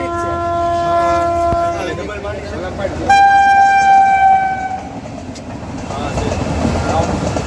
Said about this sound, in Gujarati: આપણે તો અહીંયા રેલવે આવે છે